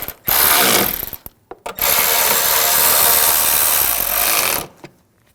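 A ratchet wrench tightening bolts on a 2006-2009 Audi S4 windshield washer pump. It gives one short burst of ratcheting and then a longer run of steady, close, loud mechanical clicking, with no talking.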